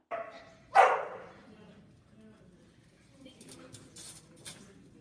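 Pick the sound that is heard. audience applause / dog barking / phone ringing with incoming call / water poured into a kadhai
dog barking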